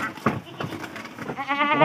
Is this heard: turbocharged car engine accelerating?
no